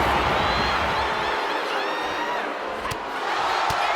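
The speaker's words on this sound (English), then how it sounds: "Packed crowd on their toes." Crowd noise from a packed wrestling arena in WWE 2K25, a steady loud roar of cheering fans with a few sharp whoops, continuous throughout.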